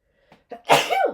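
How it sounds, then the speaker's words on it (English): A couple of quick sharp breaths lead into one loud, explosive sneeze close by, trailing off at the end. "Hold on, I have to sneeze."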